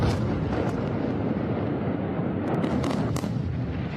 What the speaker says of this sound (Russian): в каждом из которых используется один и тот же звук, одни и те же выстрелы и взрывы